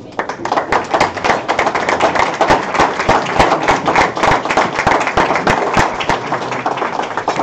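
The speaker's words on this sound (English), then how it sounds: "can we please rise and give this family a round of applause?" A crowd applauds at a memorial celebration of life, with dense, steady clapping sustained for several seconds, loud and close, with no voices over it.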